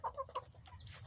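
Newly arrived hens cluck softly and repeatedly while feeding in a farmyard, a few short bursts close by over a steady low background hum, with no voices.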